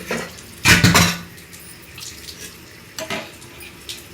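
A spoon stirring dal with tamarind, chili powder and salt in a pot: a loud clattering scrape of metal against the pot, then quieter wet stirring and a couple of softer knocks.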